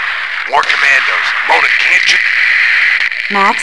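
A voice comes through a crackling, hissy radio channel in Max Payne 2, cutting in and out in broken bursts over constant static.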